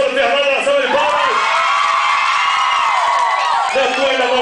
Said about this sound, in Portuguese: Quem gostou do Fernando, salva de palmas.